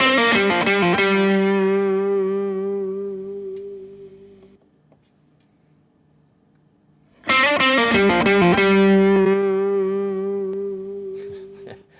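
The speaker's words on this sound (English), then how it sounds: "it's great sounding guitar" Two electric guitar chords, recorded with a Shure SM57, ring out and decay slowly with echoing tape-delay repeats and a processed, wobbling tone, separated by a brief near-silent gap.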